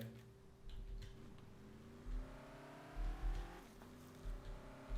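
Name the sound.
car engine revving in video game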